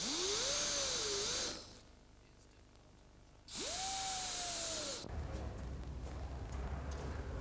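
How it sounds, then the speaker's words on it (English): A 1/4-inch power drill guided by a 1/8-inch pilot bores out spot welds on a vehicle body panel, whining loudly in two bursts that rise in pitch and hold steady, with quieter shop noise between them. "The 1/8" drill acts as a guide for the 1/4" drill used to remove the spot welds."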